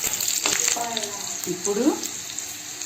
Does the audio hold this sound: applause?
no